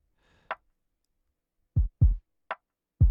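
Sparse drum hits in a lofi beat: two crisp cracks from layered snares and three deep thumping kicks, spaced irregularly with silence between them.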